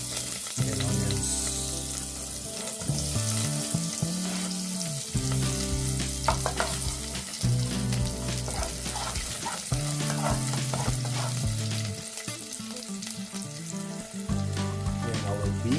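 Garlic, onions and ginger fry in a pan for beef pinapaitan, a continuous close sizzle with crackling bursts and stirring scrapes, and no one speaking.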